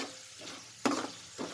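Chirmuri seasoning fries gently on a low flame, a soft, low-level sizzle with one brief louder scrape or stir midway, close and without any talk.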